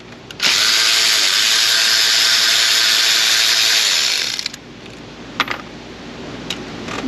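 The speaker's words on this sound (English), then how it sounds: "Let's get these nuts, bolts out of here so I don't lose them." A power tool whirs loudly and steadily for about four seconds, spinning nuts and bolts out of a 5.3 Silverado engine. Afterward come a few sharp metallic clinks and rattles as the fasteners are handled, and nobody speaks.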